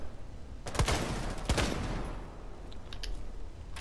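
Gunfire in Rainbow Six Siege: two sharp, loud shots about three-quarters of a second apart, close, with echoing tails and faint clicks after, no speech.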